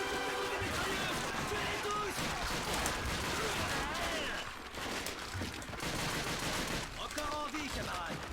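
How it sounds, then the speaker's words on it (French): Dense, continuous gunfire and explosions from the Call of Duty video game, a constant battle din of rapid shots layered with voices talking throughout. "Vite, récupère cette mitrailleuse"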